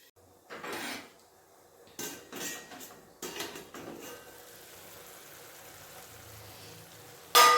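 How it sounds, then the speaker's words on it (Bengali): Metal lid set on a cooking pot of koraishutir ghugni: a few close clanks and rattles in short bursts, a quieter stretch after, then a final sharp clink. "একবার ঢাকা দিয়ে দিলাম"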